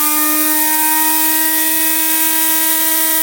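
A Lego bladeless turbine generator spinning at about 19,000 RPM gives a loud, steady high-pitched whine with clear harmonic overtones over an airy rush, constant throughout.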